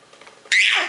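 A single loud, sharp sneeze bursts out after a stretch of quiet, faint background murmur, then trails off quickly.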